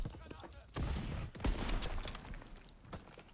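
Gunfire from a Call of Duty: WW2 beta match crackles in rapid bursts and scattered shots at moderate loudness, while players talk over it.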